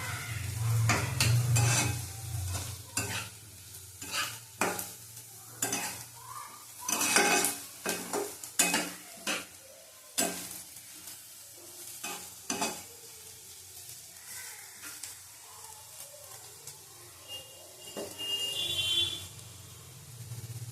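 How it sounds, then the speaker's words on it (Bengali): Potato slices frying in a pan, stirred repeatedly, giving steady near sizzling with sharp scraping strokes of a utensil and occasional clinks, no voices. "আলু ভাজাটা হয়ে গেছে, একটু ভেজে না একদম মজে গেছে"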